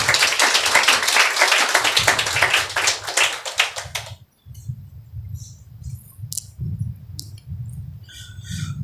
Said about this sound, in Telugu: చప్పట్లు కొట్టండి ఆయనకు.